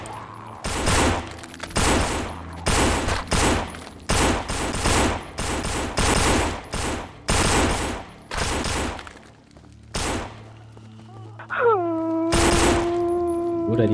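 Video game gunfire rattles in loud rapid bursts of close shots for about ten seconds, followed by a falling electronic tone and a final blast.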